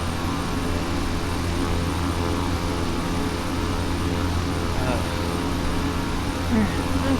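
Steady, continuous airplane engine drone from Microsoft Flight Simulator X, a constant loud hum that runs throughout under someone talking.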